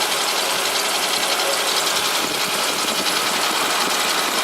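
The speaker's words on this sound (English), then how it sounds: "Apart from a little bit of belt noise from the pulleys, which obviously just need cleaning." A high-mileage Nissan engine, over 850,000 km, idles steadily with a broadband mechanical hum and a faint squealing belt noise from the pulleys, close and continuous with no talk.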